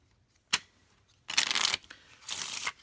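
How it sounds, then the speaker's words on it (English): A deck of cardstock Kipper cards is riffled and shuffled, a short snap followed by two longer crisp ruffling bursts in a quiet room. "And then you shuffle the deck."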